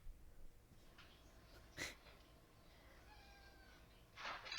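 A cat gives a few strained, drawn-out yowls and wheezy cries, heard faintly with quiet pauses between them and no talking.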